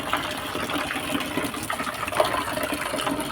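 Water poured from a jug splashes into a bucket being washed, a close, continuous gushing spill with small splashy bursts throughout.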